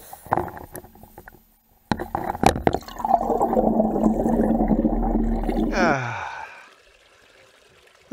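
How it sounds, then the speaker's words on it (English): Water running into a rinse bucket for washing, a steady close gush of splashing flow after a few knocks and clunks, cutting off abruptly with a short squeaky rush before near silence. "The lovely sound of running water."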